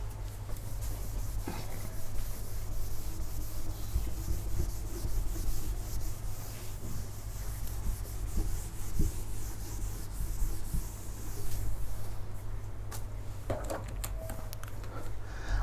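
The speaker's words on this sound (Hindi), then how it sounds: "तो इसको रब कर दे रहा हूँ" A board is erased by steady rubbing during a physics lesson on vectors, a continuous close scrubbing sound over a constant low hum with a few sharper scrapes and knocks and no talk.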